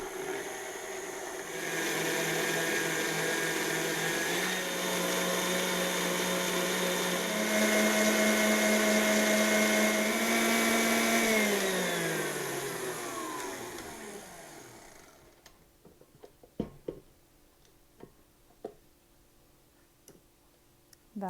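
Electric hand mixer whipping cream with powdered sugar toward stiff peaks, a steady loud whirring drone that holds for about fifteen seconds, dips in pitch, then cuts off, leaving a few light clicks and taps.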